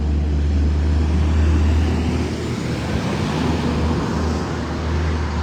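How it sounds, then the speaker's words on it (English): Trucks pass on a city street, a loud steady roar of heavy traffic with deep low rumble filling the whole stretch, no talk. "Sorry about the trucks"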